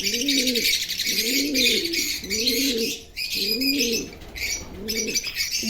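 Male pigeons, including a brown Shiraz and a white Giribaz, coo close by in a steady rhythmic series of five low rolling calls, with faint chirps from other birds in the background.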